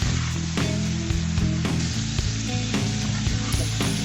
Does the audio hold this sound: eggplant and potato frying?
yes